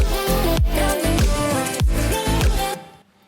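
Layered EDM drums from a drop, thumping kick and snare hits in a steady loud pattern with a drum fill rolling near the end before cutting to near silence.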